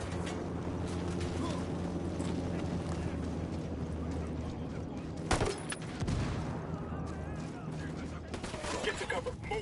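An Apache helicopter in Ghost Recon Wildlands opens fire, sending bursts of heavy gunfire and booming impacts over a constant low rotor rumble, loudest around the middle, with some talk mixed in.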